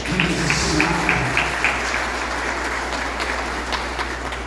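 Applause from a church congregation at a Santa Ceia service, a steady wash of clapping that fills the whole stretch with a constant low hum underneath and no voices standing out.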